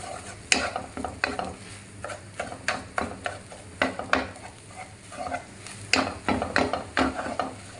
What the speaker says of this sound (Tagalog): Unahin na natin iprito tong itlog. Tapos dudurugin na po natin yung itlog.